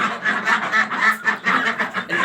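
White Pekin duck quacking loudly and close, a rapid run of raspy nasal quacks in several bursts with brief pauses between them.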